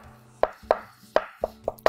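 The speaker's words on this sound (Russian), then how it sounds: "нарезаю нашу селедочку." Knife chopping salted herring in a kitchen, six sharp, evenly spaced cuts against a board at close range, with no talking.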